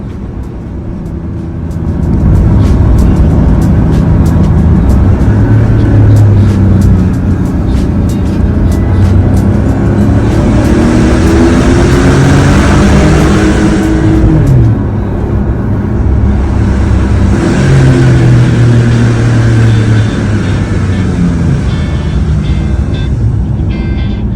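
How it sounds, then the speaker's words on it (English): Porsche 911 GTS engine revved hard inside a mountain tunnel in the Alps, a loud sustained roar rising and falling in pitch with echoing reverberation off the tunnel walls. "like every child, I had to rev the engine as I went through"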